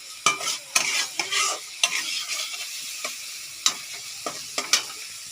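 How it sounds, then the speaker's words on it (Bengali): Capsicum tossed into a wok of frying prawns: a steady loud sizzle runs throughout, broken by sharp scraping stir strokes at an uneven rhythm, close up and without talking. "আর আমি ক্যাপসিকামগুলো দিয়ে দিচ্ছি কড়াতে।"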